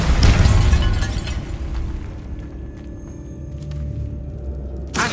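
A Bombarda spell detonates in Hogwarts Legacy, a loud booming blast at the start that rumbles and decays over several seconds, followed by faint debris clatter and a low lingering hum.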